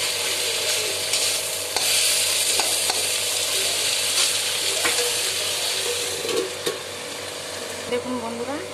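Chicken cooks in a pan, giving off a steady close sizzle with occasional clinks and scrapes of stirring over a constant background hum.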